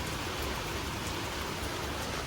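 Drizzle falling in Rajkot, a constant, dense wash of raindrops with no pauses or other sounds.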